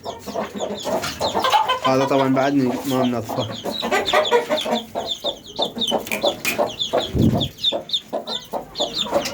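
Backyard chickens and a rooster cluck and call around a coop, close and continuous, while someone talks over them.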